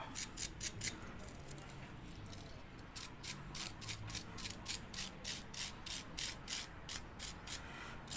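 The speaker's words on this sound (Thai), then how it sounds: "ใช้แปรงลวดก็ได้นะครับ ปัด เอาขี้กากขี้เกลือที่มันขึ้นนะครับออก" A wire brush scrubs rust and grime off a car brake part, first loose irregular rubbing, then a quick, regular run of sharp scratchy strokes, close up and alone.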